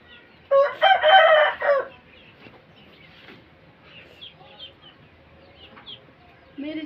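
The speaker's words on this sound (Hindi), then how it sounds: "मेरी जगह पे मेरा मुर्गा बोल रहा है" A rooster kept at home lets out one loud, close crow lasting over a second, followed by softer scattered clucks and household noises.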